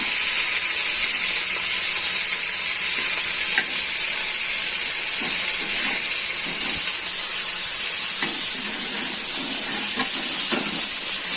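Red fish frying in a pan with chillies, tomato and garlic to follow, giving a loud, steady sizzle and hiss of hot oil with occasional crackles and pops throughout, no voices.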